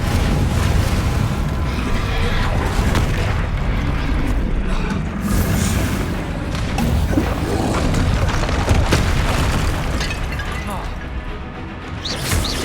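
Confringo spell blasts go off in Hogwarts Legacy as a loud, continuous wall of booming, crashing combat sound, with rumbling explosions and mechanical clatter layered together and barely easing for over twelve seconds.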